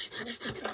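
A charcoal drawing stick scraped against a sharpener or blade in a short, close rasping burst of quick repeated strokes, under a second long.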